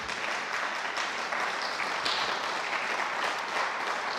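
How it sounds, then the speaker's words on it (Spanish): A church congregation applauds steadily at a healing and deliverance conference, a dense wash of many hands clapping at even volume throughout, with no voices standing out. "Dale un aplauso al Señor, por favor"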